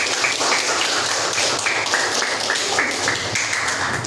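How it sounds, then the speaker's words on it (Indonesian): Students in an eleventh-grade mathematics classroom applaud steadily for about four seconds, a dense, even patter of many hands close by. "Tepuk tangan untuk kalian semua."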